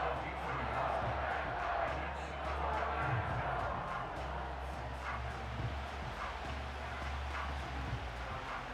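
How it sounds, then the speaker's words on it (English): Stadium crowd in the Madden 25 football game, Vikings versus Packers, a steady roar of cheering and noise that fills the whole stretch, with commentary voices over it. "this crowd doing their best to make a lot of racket"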